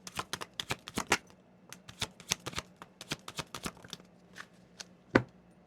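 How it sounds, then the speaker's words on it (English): Tarot cards are shuffled and pulled, giving quick crisp riffling flicks in a fast irregular patter that slows to a few scattered snaps, close and fairly quiet with no voices. "let me pull some cards for your person"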